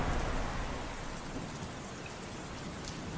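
Steady heavy rain pours through a stormy night with low thunder rumbling beneath, a dense, unbroken wash of sound used as an audio drama effect.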